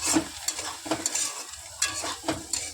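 Green chillies fry in a pan with a close, crackling sizzle. Several sharp scrape-and-stir bursts punctuate it at a loose rhythm, and no one speaks.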